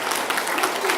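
Guests at a golden wedding anniversary celebration applaud a married couple, a brief, dense burst of many hands clapping at a steady level.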